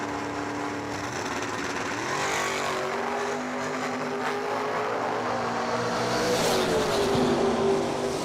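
A door-car drag race featuring a Chevelle at the Moser Engineering Door Car Duel: a loud, sustained engine roar whose pitch climbs steadily as the car accelerates, heard alone with no talk.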